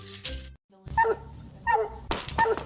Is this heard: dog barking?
yes